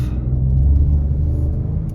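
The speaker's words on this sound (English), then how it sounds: "Nice bit of a grunt to the engine as well." A 2021 Peugeot 2008 GT Line engine pulls under acceleration, giving a steady, close, deep rumble that holds throughout with no voices.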